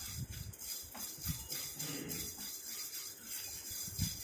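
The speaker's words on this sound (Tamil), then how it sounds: "இப்போ இதை நல்லா செவக்க வறுத்து எடுத்துக்கலாம்" Ingredients roasted and stirred in a pan until reddened, a steady scraping and rubbing of a utensil against the pan bottom with soft sizzling, repeating in uneven strokes, close up with no talking.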